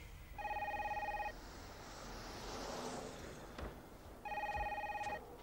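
An old telephone rings in two electronic trilling bursts separated by a pause, close and clear over a low background rumble, in a 1991 French-dubbed action film.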